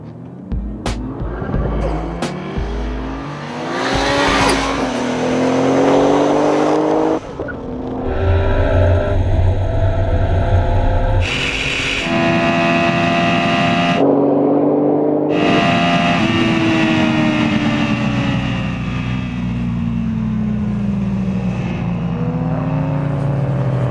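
A high-performance vehicle makes a high-speed run down an airstrip. The engine is loud and close, rising steadily in pitch through several gear changes, with a sustained roar and wind noise at top speed.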